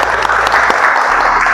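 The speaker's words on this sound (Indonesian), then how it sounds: "Kita beri tepuk tangan untuk semuanya." A room full of people claps loudly and steadily throughout, a dense continuous wash of applause.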